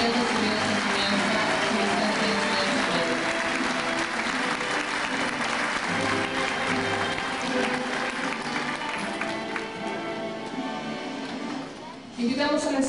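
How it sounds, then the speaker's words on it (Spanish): An audience at a school graduation ceremony applauds its graduating students with steady, dense clapping that fills the hall and continues for over ten seconds before easing at the end. "Permítanos un fuerte aplauso para todos sus alumnos que han recibido esta enseñanza."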